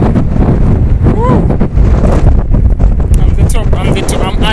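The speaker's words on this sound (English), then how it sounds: "It's too windy, guys." Strong wind buffets the microphone on a hilltop in Eldoret, Kenya, with loud, continuous rumbling gusts and a voice speaking briefly under the roar.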